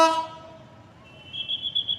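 A short horn blast opens, then a higher, wavering tone sounds at a distance, like a train horn heard from afar with faint background noise.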